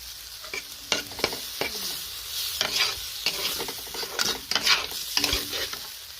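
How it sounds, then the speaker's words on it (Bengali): Tomatoes fry in a pan among cooked vegetables and spices, a steady sizzle broken by repeated sharp scrapes and knocks of a spatula stirring, close and moderately loud with no talking. "টমেটো ফ্রাই করে নিই।"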